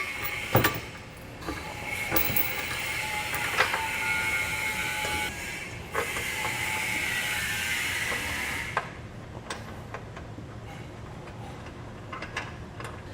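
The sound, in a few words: trailer hitch being secured with bolts on Toyota Highlander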